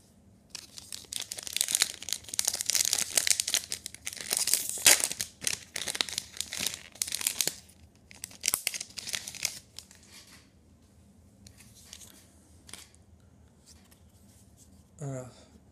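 Dragon Ball trading card booster packs are opened by hand. Loud, close crinkling and tearing of foil wrappers comes in bursts, then quieter card shuffling follows, with a voice talking now and then.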